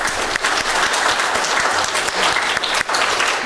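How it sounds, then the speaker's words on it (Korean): A Korean church congregation gives a loud, sustained round of applause during a Sunday service, many hands clapping steadily with a few sharper claps standing out. "격려의 박수를 드릴까요?"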